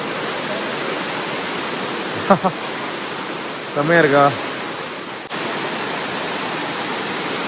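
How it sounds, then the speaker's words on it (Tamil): A main waterfall, running with only a little water, gives a loud, steady broadband rush that fills the whole stretch, while a voice briefly speaks over it. "இதான் மெயின் ஃபால்ஸ்."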